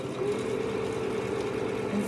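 Steady electric hum of a sewing machine stitching pieces of a Spinning Wheels quilt block, running continuously at an even motor pitch, close and alone without talk.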